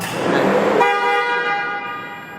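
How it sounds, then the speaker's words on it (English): A Lamborghini Diablo VT Roadster's horn blares in one sustained honk, loud and close, its tone ringing on briefly after a rougher burst at the start. "So on the actual steering wheel, you can honk the horn"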